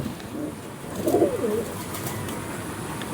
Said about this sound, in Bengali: এই দেখে নিন পায়রা।